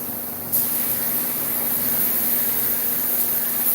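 A spray gun applying paint to a haunted-attraction prop gives a steady, close hiss that starts abruptly after a brief quieter moment, then holds continuous and even to the end.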